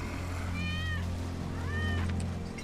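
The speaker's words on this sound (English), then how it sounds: "That's Wedge's cat." Wedge's cat in Final Fantasy VII Remake gives two clear meows, close and distinct, the second slightly longer, over a steady low in-game hum.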